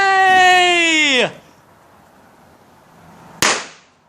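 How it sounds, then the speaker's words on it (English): New Year's fireworks and firecrackers outdoors: a rising whistling tone ends in quiet, then a single sharp, loud bang bursts and fades. "Thank you guys for watching this fireworks video."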